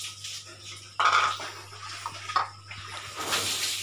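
Sliced mahkota dewa fruit being washed in water in a cooking pot, with splashing, sloshing and light clinks of the pot, close and moderately loud, with no speech.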